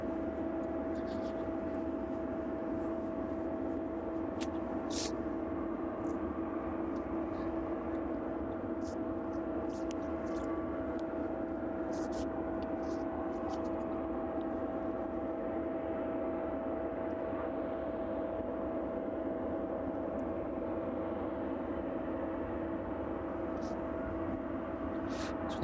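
An aircraft on approach to East Midlands Airport on a chilly evening gives a continuous, even jet rumble with a steady hum. Faint clicks and ticks sit over it and no one speaks.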